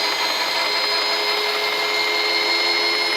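A metal lathe's power feed running in rapid traverse, a steady loud mechanical whine and grinding drone with a high tonal hum, continuous and close.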